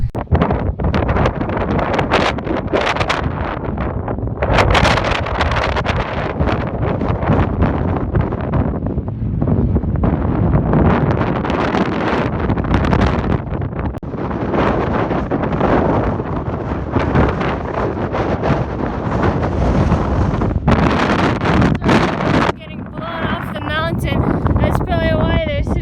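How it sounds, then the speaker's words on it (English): Strong gusts sweep across an open hillside on a long-distance trail, roaring and buffeting the microphone in loud, uneven bursts that barely let up. "It seems to be a bit less windy, at least here, at least right now,"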